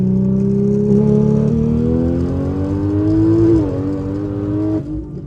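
Loud car engine at a house, revving with a rising, droning pitch that climbs steadily, dips briefly, then settles and cuts down near the end, heard close and alone without talk.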